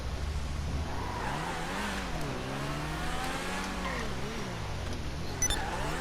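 In GTA Online, a Pegassi Torero sports car's engine note falls as it brakes and then climbs again, with a short tire squeal near the end and a continuous loud motor drone.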